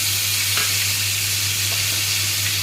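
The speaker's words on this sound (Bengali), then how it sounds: "এবারে লঙ্কা বাটা দিলাম" Chili paste sizzling as it hits hot oil in a pan while cooking a soybean dish, a steady broadband frying hiss with faint stirring clicks and a low hum underneath, close and continuous.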